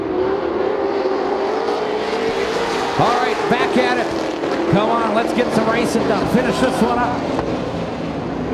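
Race cars in a bunched pack on a speedway's back straightaway, their engines blending into a loud, continuous roar with rising and falling revs, under a commentator's excited talk.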